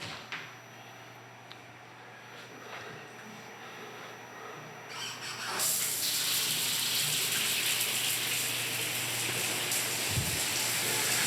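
A residential shower turned on during a home inspection, quiet at first with faint rubbing, then water hissing steadily and fairly close from about halfway through until the end.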